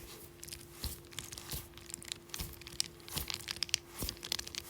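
Close, crisp crunching and crackling from a squeezed jelly stress ball filled with crunchy crystals, repeated in irregular bursts with a faint steady hum underneath.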